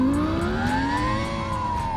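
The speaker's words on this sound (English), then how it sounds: "What you're about to hear will sound exactly like a Lamborghini Gallardo." A SoundRacer device simulating a Lamborghini Gallardo V10 engine, a loud, continuous synthetic rev that climbs in pitch and then holds high, heard alone.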